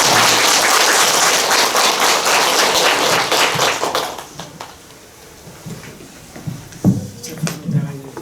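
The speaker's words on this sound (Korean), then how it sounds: "박수 한번 쳐서 감사합니다" Lecture audience at a Buddhist winter-retreat talk clapping together, a dense, loud burst of applause for about four seconds that thins out into a few scattered claps and faint voices.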